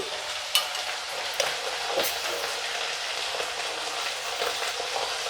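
Spices with grated ginger and salt frying in a pan while being stirred, a dense continuous sizzle close up with occasional sharp spoon clicks against the pan.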